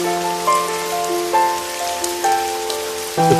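Steady rain falls on a surface throughout, a dense continuous patter with a few brighter drop hits and a sustained musical tone layered over it, moderately loud with no voices.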